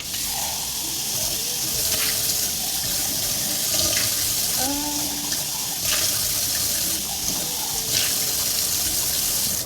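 Tap water runs steadily into a kitchen sink while dishes are rinsed beneath it, a continuous close hiss with a few faint knocks and clinks.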